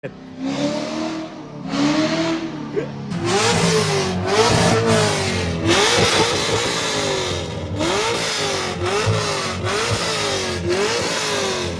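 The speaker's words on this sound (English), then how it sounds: "Seeing it rip on the dyno now" A Corvette Z06 C6 engine revs hard on a dyno again and again, rising and falling in loud, close bursts.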